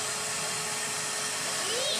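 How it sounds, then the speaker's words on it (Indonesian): Multipro VC 10-1 YS wet and dry vacuum cleaner running with a steady, loud broadband whine and motor hum throughout. "perdana vacuum cleaner."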